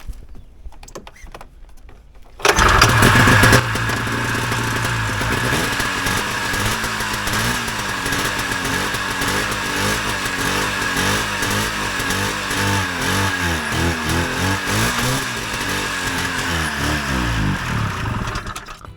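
Cheap snowmobile with a plug problem, only two plugs fitted, sputtering briefly before the engine catches with a loud burst, then settles into a rough, uneven buzzing idle with flickering revs, close and continuous, no talking.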